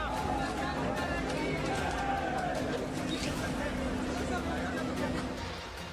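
Crowd gathered outside a house in Jaipur as a bulldozer moves in, a dense continuous babble of many voices and shouting at moderate distance, steady throughout with slight fading at the end.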